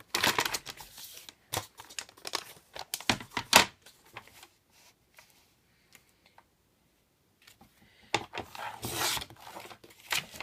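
A paper cutter with a dull blade trims craft tags, giving intermittent rasping slices and sharp clicks, close and fairly quiet, with a silent pause midway before the scraping resumes.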